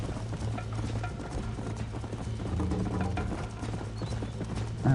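Hooves clip-clop at a steady gallop throughout, a horse running hard in Red Dead Redemption, its rhythmic thudding loud and continuous with a brief snort or whinny near the end.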